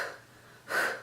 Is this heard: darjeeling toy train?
no